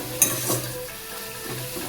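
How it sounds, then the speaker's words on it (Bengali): Crushed peanuts go into red amaranth greens frying in a pan over a medium flame, giving a soft steady sizzle with a couple of faint stirring scrapes and light clinks. "আমি বাদামটা একটু ক্রাশ করে নিয়েছি, দিয়ে দিচ্ছি।"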